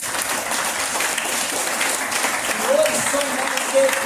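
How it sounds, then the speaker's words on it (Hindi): A seated audience at a business seminar hall claps in a steady, dense wash of applause throughout, fairly loud and even, with faint voices mixed underneath. "उनके लिए एक जोरदार तालियां"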